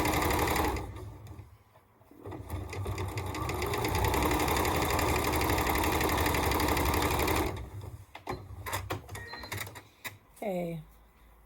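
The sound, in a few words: sewing machine sewing quilt nine-patch block seams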